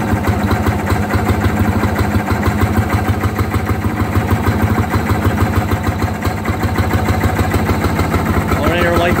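The small engine of a Fairmont MR19 rail speeder idles steadily with a fast, even chugging pulse, loud and close, with people talking over it.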